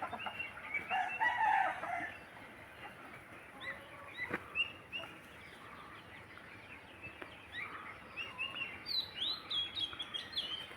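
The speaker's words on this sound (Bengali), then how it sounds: "এখানে অনেক দেশি মুরগি আছে।" Native Bangladeshi chickens kept alongside broilers on a village farm, clucking and crowing at moderate distance amid scattered chirps, with no one speaking.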